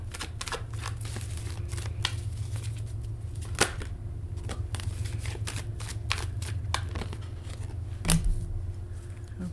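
A deck of playing cards is shuffled repeatedly in quick, crisp riffles and snaps close up, with no talking.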